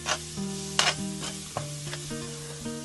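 A spoon stirs spicy egg masala with green chili paste in a pan over heat, scraping and clinking in a few distinct strokes against a steady low sizzle, with no voices.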